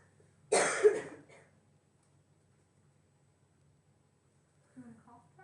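A single harsh cough bursts out close by, then quiet follows before a brief murmur of speech near the end.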